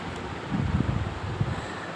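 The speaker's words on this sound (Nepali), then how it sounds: "कस्तो शीतल हावा चलिरहेछ" Cool breeze blowing outdoors, a steady, soft rush of wind with low gusty buffeting against the microphone for about two seconds, with no voices.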